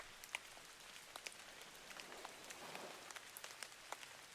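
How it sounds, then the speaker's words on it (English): Gentle rain pattering softly on a surface, scattered droplets ticking in a quiet, even wash with no voices. "The rain eases, The skies open."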